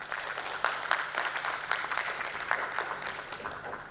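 A conference hall audience applauds in a steady, moderately faint wash of clapping with a few sharper claps standing out and no talk over it.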